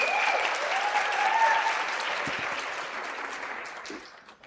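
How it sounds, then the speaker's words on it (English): A seminar audience at a Women's Day commemoration applauds in a full, dense burst of clapping that swells and then slowly tapers off, with a faint voice briefly audible beneath. "Can we clap for them, ladies and gentlemen?"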